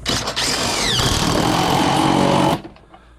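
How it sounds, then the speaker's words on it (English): An impact wrench working on a cartridge pool filter assembly, a loud, steady close-up whir lasting about two and a half seconds before cutting off abruptly. "Get your wrench or impact."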